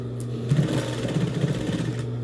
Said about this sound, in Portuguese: encaixa ele e vamos costurar